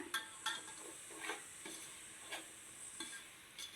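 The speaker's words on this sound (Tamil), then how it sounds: "கொஞ்சம் அடி பிடிக்காமல் கிளறி விட்டுக்கிட்டே இருக்கணும்" Curd being stirred into jackfruit biryani masala in a pan: soft scraping strokes come at a steady rhythm over a low continuous sizzle, quiet and close, with no talking.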